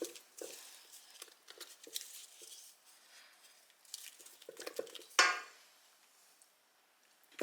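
Vanilla and cinnamon are stirred into a brown butter cream cheese frosting for cinnamon rolls. A utensil makes soft, quiet scrapes and taps against a bowl, with one sharper clack partway through.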